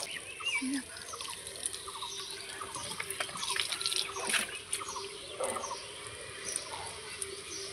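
Potted plants in a rooftop garden are watered in the morning, a steady close splashing and trickle of water running over leaves and soil with scattered drips, continuous for the whole stretch, with faint background noise and no clear talk.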